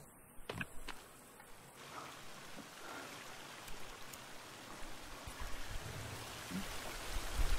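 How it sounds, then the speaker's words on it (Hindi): Water flows steadily in a jungle setting as a soft, broad rushing wash. A few faint knocks and small splashes sit over it near the start and the end. "ये पानी का आवाज है"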